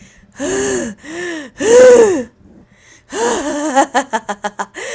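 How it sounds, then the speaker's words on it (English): A video game character breathes heavily, giving several loud, strained gasps and wheezy inhalations, then a quick run of short, sharp panting breaths. "He leans in closer, breathing growing more labored."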